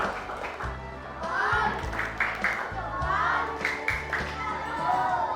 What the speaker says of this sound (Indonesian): kita beri tepuk salut untuk kelompok 2